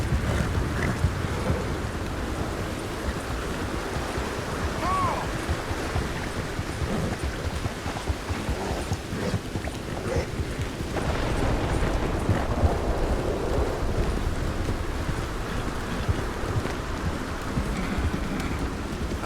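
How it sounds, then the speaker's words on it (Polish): A heavy rainstorm pours down in the mountains in Red Dead Redemption 2, a dense, constant hiss of rain that stays loud and even throughout, with a low rumble underneath. "Ale się ulewa zrobiła."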